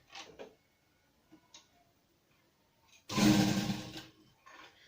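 A sewing machine stitches a seam on a fabric tote bag at a 2.5 stitch length, running in one loud steady burst of about a second after quiet handling clicks.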